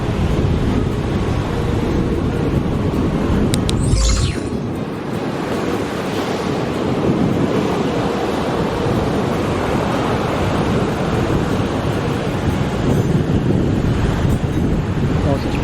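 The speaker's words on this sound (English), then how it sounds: "you catch a fair bit of wind" Strong wind buffets the microphone on an open coastal walking track in Western Australia, roaring steadily over the wash of ocean surf, with one brief sharp knock near the start.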